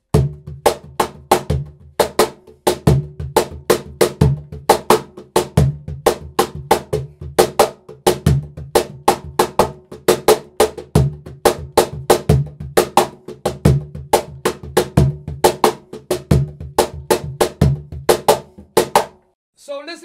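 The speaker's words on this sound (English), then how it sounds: "Recorded a different pattern of cajón that goes along with the conga rhythm I record" A cajón pattern is layered with a conga rhythm, producing deep bass thumps and sharp slaps interlocked with conga tones in a steady, busy groove that runs for about twenty seconds, close and clear.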